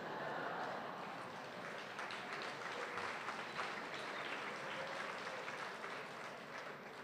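A large audience claps at a high school graduation ceremony, a dense, sustained roar of many hands heard from a distance, fairly faint and even throughout.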